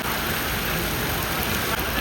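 Heavy rain falling outdoors, a dense continuous hiss of steady downpour with no voices.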